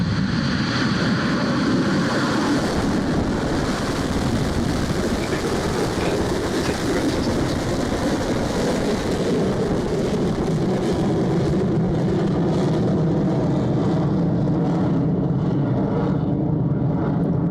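Rocket Lab rocket lifting off after ignition, a loud continuous broadband roar that rumbles steadily for the whole stretch without letting up, with no voices over it.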